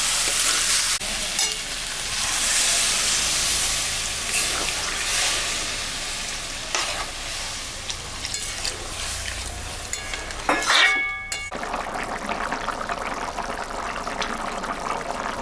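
Water goes into a pan of frying jackfruit and prawn curry, the steady sizzle and stirring giving way to a brief hiss and bubbling splash near the end before the cooking noise settles again.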